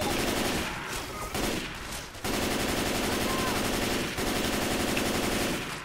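Rapid automatic gunfire in Left 4 Dead 2, shooting at a smoker on the Blood Harvest bridge, loud sustained bursts broken by a few brief pauses, with no voices.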